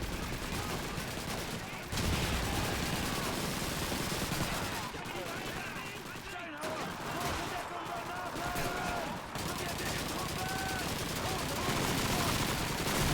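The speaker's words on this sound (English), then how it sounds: "there's tons of recoil when using hipfire in this game" Hip-fired weapons in Call of Duty 2 (2005) crack out in dense, repeated bursts of gunfire that keep going with few pauses, mixed with other battle noise.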